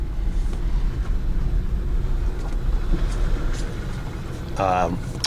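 A 1992 Dodge Caravan van drives along with steady low engine and road rumble throughout, a voice speaking over it, and a brief whining burst near the end.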